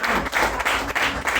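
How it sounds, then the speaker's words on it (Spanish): Church congregation clapping in bursts during an evening service, a dense moderately loud patter that swells and dips several times across the short stretch. "Dale un fuerte aplauso"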